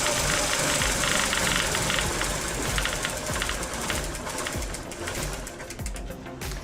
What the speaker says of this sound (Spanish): tenemos el motor prendido